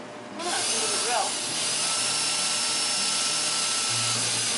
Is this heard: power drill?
yes